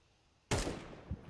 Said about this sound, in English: he's going to hear all this gunfire